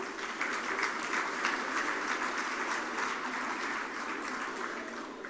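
Steady applause from a crowd at a French consulate Bastille Day reception in Rabat, a dense patter of many hands clapping at an even level throughout.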